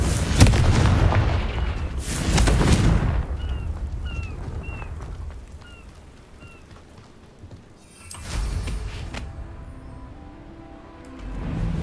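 Confringo fire spell in Hogwarts Legacy, two heavy booming blasts early on, then a rumbling tail with faint chirps, a third burst near the end, all loud and close.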